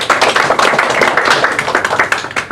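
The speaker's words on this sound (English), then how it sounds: "Let's give him a round of applause for his public service." A crowd at a political campaign gathering applauds a state legislator for his public service, loud close dense clapping sustained throughout.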